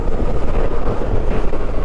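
Strong wind on the Humber Bridge buffets the microphone in a continuous low rumble with gusty fluctuations.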